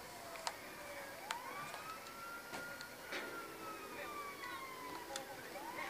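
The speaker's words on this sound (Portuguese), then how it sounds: "barulho de polícia" A police siren in the video game GTA 5 wails with slowly rising and falling tones, faint and distant, over a low rumble of traffic and a few sharp clicks.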